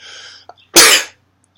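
A single loud, close allergy sneeze bursts out sharply after a quiet breathy intake, then fades into silence.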